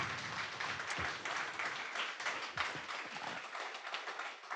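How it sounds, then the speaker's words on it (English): An audience applauds steadily, with dense, sustained clapping that carries through the whole stretch and fades slightly at the end. "let's just say a big round of applause for all the presenters tonight"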